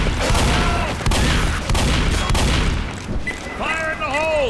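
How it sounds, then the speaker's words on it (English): A pipe bomb goes off in the co-op zombie shooter Left 4 Dead, a loud booming blast amid dense gunfire and chaotic game noise, with voices talking over it. "Don't sound like a Molly to me. Sounds like a pipe bomb."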